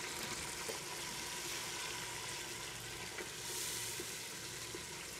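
Chopped tomatoes frying with browned onions for daal mash, a faint, dense and even sizzle with a couple of soft stirring taps.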